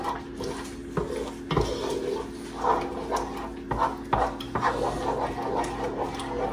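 Garlic butter shrimp juices mixed in a bowl make repeated scraping and clinking of a utensil against the bowl in an uneven rhythm, close and moderately loud over a faint steady hum.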